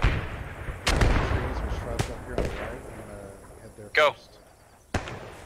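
Scattered sharp gunshots and bursts of machine-gun fire in the Post Scriptum war game, several distinct cracks spaced a second or so apart at mid distance, with a player's voice speaking briefly between them.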